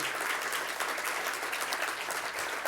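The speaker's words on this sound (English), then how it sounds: "let's give a round of applause to Mark and his leadership" Steady, dense applause from a crowd at a benefit event, continuous clapping throughout with no voices standing out.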